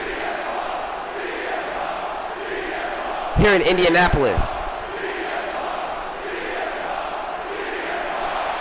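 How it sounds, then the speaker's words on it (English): In the WWE 2K25 video game, an arena crowd in Indianapolis keeps up a steady, distant roar and chant throughout, while a commentator speaks briefly over it partway through. "The crowd sang his song"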